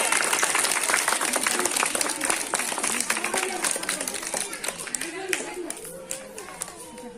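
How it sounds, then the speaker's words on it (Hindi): A school audience at a Teachers' Day celebration claps, the dense patter loud at first and gradually thinning and fading, while voices talk and call out over the clapping. "ताली ताली कम नहीं करना है।"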